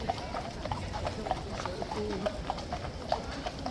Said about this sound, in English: Those are not the only police horses in riot kit either.